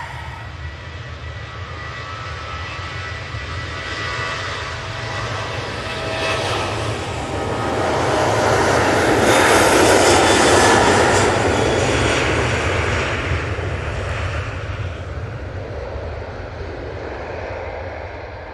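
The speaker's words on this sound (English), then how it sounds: "That Ryanair was off to Valencia using the 737-800" A Ryanair Boeing 737-800 jet departs with a loud, continuous engine roar and whine that swells to a peak midway, then slowly fades.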